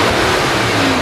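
Engine of a 2012 Mitsubishi T120ss pickup revving, a loud, steady broadband roar with a slowly rising tone, alone and close.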